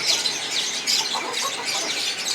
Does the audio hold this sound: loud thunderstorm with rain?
no